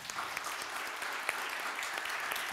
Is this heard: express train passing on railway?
no